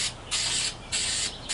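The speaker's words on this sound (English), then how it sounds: "I'm going to spray just as you would with spray paint" A hand-pump spray bottle of mint spray mists three times in quick succession, each burst a soft airy hiss lasting a fraction of a second with brief pauses between, close and fairly quiet.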